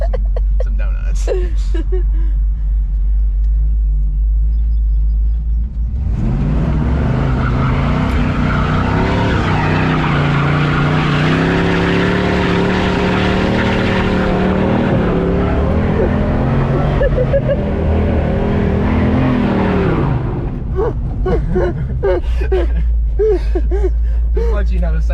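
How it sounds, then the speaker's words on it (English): A big block Camaro revs hard while doing donuts, a loud sustained roar whose pitch rises and falls with tyre squeal for about fifteen seconds, while people talk before and after. "I'm gonna let this one car pass, and then we're gonna absolutely do some donuts."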